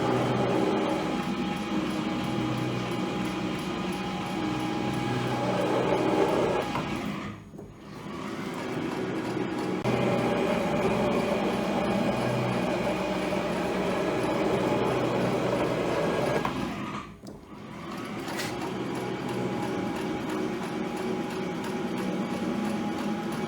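A Powell metal planer rough-planing a Kingway HKA36 straightedge: a steady, loud mechanical rumble of the cutting stroke, broken twice by short drops where the table reverses, then resuming.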